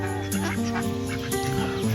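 A duck with laboured, reduced breathing on a poultry farm gives loud, honking calls close by, several drawn-out tones in quick succession with no voices.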